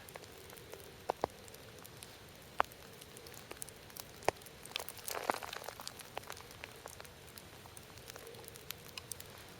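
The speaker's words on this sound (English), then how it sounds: "It's just dripping down in my head, and it's dripping all the time" Scattered drips of water falling from trees in wet weather patter on a surface, irregular light taps over a faint steady background, close and fairly quiet.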